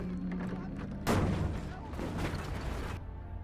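MP40 submachine gun fire in Battlefield 5, a loud close burst of rapid automatic shots that starts abruptly, rolls on for about two seconds and then cuts off, over steady game background noise.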